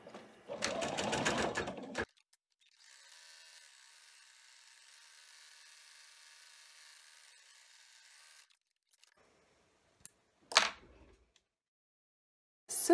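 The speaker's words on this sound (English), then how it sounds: "then you take it back to the machine, and we are going to be running the stitch at the top" An embroidery sewing machine running a top stitch: a steady, even mechanical whirring that holds for about six seconds before stopping, with a voice talking before it starts and a few clicks and brief sounds afterward.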